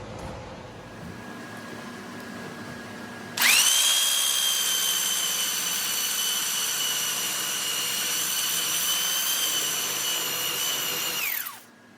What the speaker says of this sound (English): now I'm gonna just clean up both edges with a belt sander and match them up so they're both identical